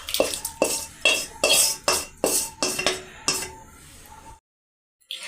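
A potato and spinach curry is stirred in a pan with a metal spoon, giving about nine regular scraping, clinking strokes roughly every half second before the sound stops abruptly and falls silent.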